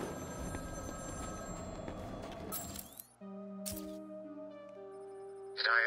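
Telephone ringing in the Batman Arkham City video game: a clean electronic ring with sustained tones entering after a burst of noisy game action, ringing steadily and fairly quiet, with a brief clink near the end.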